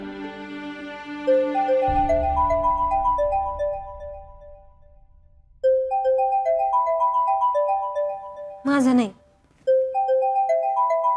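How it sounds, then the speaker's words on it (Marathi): A mobile phone ringtone plays a repeating melodic tune loudly in a household scene, pausing once while a person speaks briefly, then resuming. "कोणाचा फोन आहे ते पण कळना"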